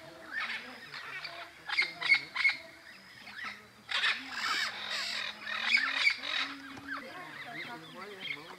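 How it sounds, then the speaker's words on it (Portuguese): Parrots calling in loud, harsh bursts as a flock flies past toward the forest at dusk, the screeches clustered in several waves and fairly close, with people talking intermittently underneath. "Papagaios, papagaios,"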